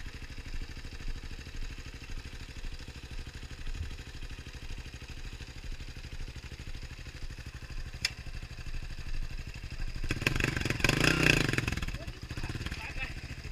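A motorcycle engine idles and revs on a muddy trail in the rain, a low steady drone that swells into a louder burst near the end, with people talking nearby.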